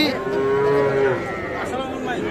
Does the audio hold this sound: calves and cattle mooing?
yes